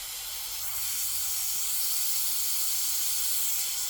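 An aerosol sprays into a Z50 minibike front fork tube in one continuous close hiss that builds slightly at the start and holds steady throughout.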